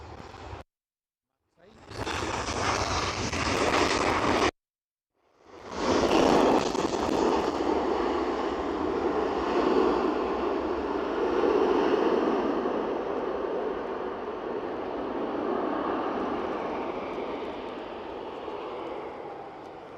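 WestJet airliner arriving from Halifax at Edinburgh Airport, a loud sustained jet roar that rises after two short dropouts and holds steady with a broad rumbling wash.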